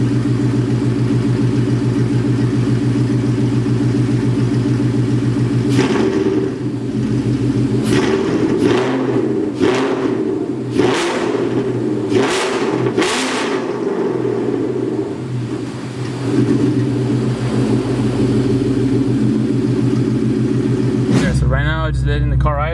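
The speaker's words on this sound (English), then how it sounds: "Letting the car idle for 3 minutes." A 5.0 V8 car engine idles steadily while warming up, a loud low throb held throughout with brief sharp clicks and noises in the middle and a short burst near the end.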